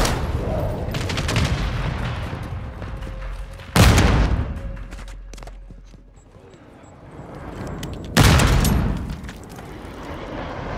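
Call of Duty: Modern Warfare II multiplayer combat with two sharp, heavy explosion impacts from a missile strike standing out over a steady wash of gunfire and battle noise.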